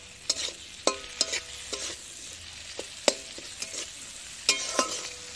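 Water goes into a fish curry (kaikka fish chorchori) cooking in mustard oil in a pot on a clay stove. A steady sizzle runs under repeated sharp scraping and knocking strokes of stirring, with no talk.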